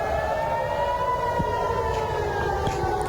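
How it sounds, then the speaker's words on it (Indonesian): Air raid warning siren sounding across Tel Aviv, a steady sustained wailing tone that holds continuously with a slight slow drift in pitch, heard from a distance over faint background city noise. "Suara sirine tanda peringatan terdengar di sejumlah titik di Tel Aviv."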